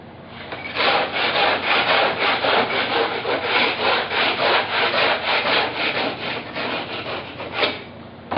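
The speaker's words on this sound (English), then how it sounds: "we're going to take our floor scraper, scrape the little bits off of it, sweep it off" A floor scraper drags across a concrete floor to knock dry texture bits loose, giving loud, close, rhythmic rasping strokes repeated evenly for several seconds.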